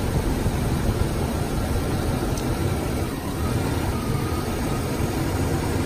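A 2008 Chevy Silverado's 6.0 V8 idles up close in a steady, dense rumble that dips briefly partway through before picking back up, with no talking.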